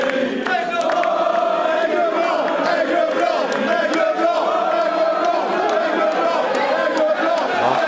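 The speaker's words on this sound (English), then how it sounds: "Fans chanting for both men." Wrestling fans in an arena chant and roar before a match, a dense, continuous crowd din with rhythmic voices and commentary talk layered over it.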